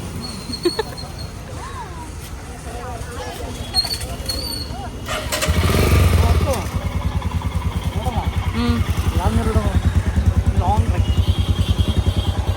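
A motorcycle engine cranks and starts, then settles into a close, steady rhythmic putter. Conversation runs over it, and a dog barks in the background.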